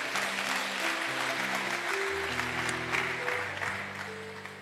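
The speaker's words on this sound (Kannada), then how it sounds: "ಅರ್ಥ ಆದವರು ನಿಮಗೆ ಒಂದು ಚಪ್ಪಾಳೆ ತಟ್ಟಿ." A church congregation claps together at a sermon, a continuous wash of hand clapping lasting several seconds beneath loud sustained keyboard music.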